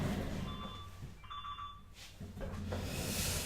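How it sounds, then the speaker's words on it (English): A telephone rings during a live coding stream, short electronic tones repeating faintly over low background hum, with no one talking. "Who's that ringing?"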